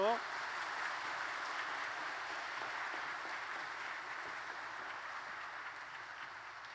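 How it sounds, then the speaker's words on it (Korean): Church congregation in Korea applauding after a baptism service, steady dense clapping washing evenly through the hall at moderate distance, sustained for several seconds without breaks. "큰 박수 보내주십시오."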